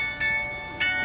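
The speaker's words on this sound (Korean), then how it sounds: "종소리 울려요." A church bell in Paris strikes twice, about half a second apart, each stroke bright and ringing with a long shimmering decay and no voices.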